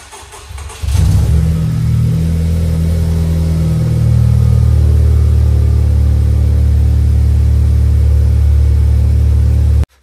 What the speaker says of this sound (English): get your car fired up, let it run for about a minute